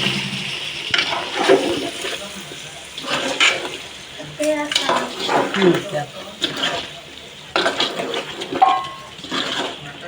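Tamarind juice is poured into a pot of korameenu fish curry, giving irregular splashing and liquid pouring sounds close by, mixed with a person talking throughout.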